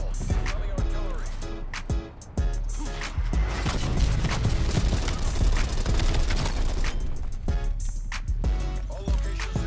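Incoming hostile artillery in Call of Duty Black Ops Cold War, a rapid run of loud sharp impacts and booms throughout, layered with gunfire and game noise, with some speech over it.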